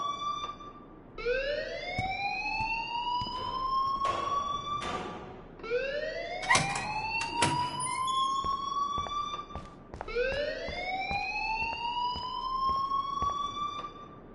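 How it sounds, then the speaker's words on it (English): A school alarm in the video game Life is Strange wails in repeated rising siren sweeps, three long electronic whoops that climb and hold, with a few sharp clicks between them and no voices. "please turn off that alarm since that's your job"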